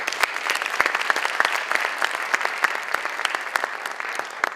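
Audience applause at a gala, steady dense clapping from a crowd in a hall with a few sharp nearby claps standing out, sustained throughout at moderate volume with no talking.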